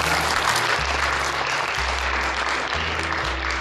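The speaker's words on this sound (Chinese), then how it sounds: "我们掌声鼓励他。" An audience at a political party founding event in Taiwan claps in a dense, sustained round of applause, even and fairly loud, over a low steady hum from the hall.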